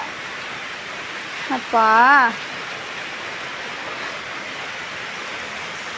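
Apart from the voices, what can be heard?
rain falling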